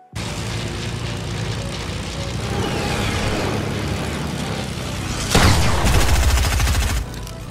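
A plane in the video game Fortnite roars with a loud, sustained engine drone, joined near the end by a burst of heavier rumbling and booms.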